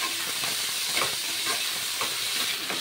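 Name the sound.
frying chopped potatoes and onion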